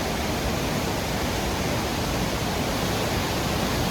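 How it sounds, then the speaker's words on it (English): A loud waterfall roars at the Falls of Bruar in Scotland during rain, heard from a stone bridge as a dense, unbroken rush of water that fills the whole clip without any voices. "It's very loud because of the waterfall"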